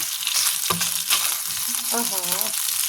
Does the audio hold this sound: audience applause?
no